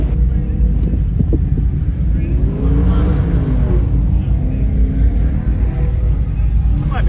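A car at a drag racing event gives off a loud, close, continuous engine rumble that swells and fades, with talking over it.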